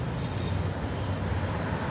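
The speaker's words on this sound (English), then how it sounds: "Beautiful train." A train rolls past on nearby rails with steady wheel rumble and a high squeal of wheels that runs through the whole stretch, fairly loud and continuous with no talk.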